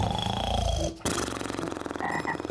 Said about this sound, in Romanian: Ce? O broască?